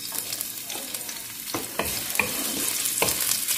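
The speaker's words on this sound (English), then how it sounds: "I'm gonna put in the onions." Onions frying in hot oil in a pan for ginisang ampalaya, a steady close sizzle with a few sharper crackles and stirring scrapes, no talking.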